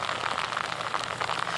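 Rain falling during a live outdoor news report, a steady dense patter of drops on surfaces, continuous and fairly loud, with no voices over it.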